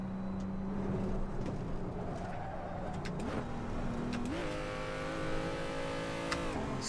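A race car engine in Assetto Corsa drones steadily in sixth gear during ranked online racing. The tone holds flat, then steps up twice in pitch as the car gains speed, with faint clicks over the continuous hum.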